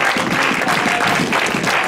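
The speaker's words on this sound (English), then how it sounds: "Somebody give the Lord a hand clap of praise." A church congregation clapping in praise during worship, many hands striking in a loose, pulsing rhythm, loud and full, with no speech over it.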